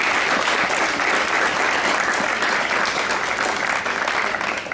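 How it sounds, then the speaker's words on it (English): A round of applause at a medal presentation, a dense, sustained burst of clapping from a gathered crowd that holds steady for several seconds and thins slightly near the end. "one final round of applause for Edie Dorrian"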